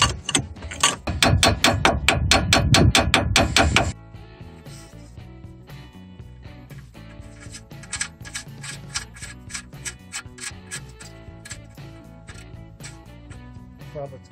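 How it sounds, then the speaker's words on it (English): Metal hammer blows loosening a tie rod end from the steering knuckle of a Toyota Echo during gearbox removal, a fast run of loud, sharp strikes for about four seconds, then quieter scattered tapping and clinking. "Separate tie rod end from the steering knuckle."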